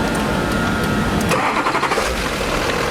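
A 2005 Duramax diesel engine cranking over during an injector flow test, a steady loud starter churn that runs through the whole stretch without clearly catching into an idle.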